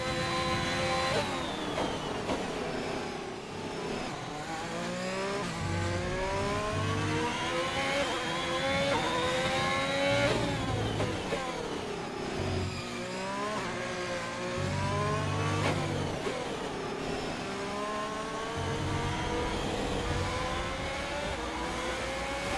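An F1 car in F1 2021 revs loud and close, its engine whine climbing through the gears, dropping on upshifts and climbing again in repeated sweeps with a steady rhythm.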